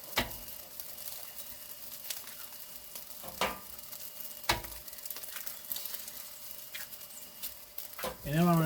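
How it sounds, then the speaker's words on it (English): Eggs sizzling and frying on crispy rice on a hot surface for homemade hibachi, steady close crackle with several sharp taps and scrapes throughout, and a voice briefly at the end. "I'm just going to crack these eggs here"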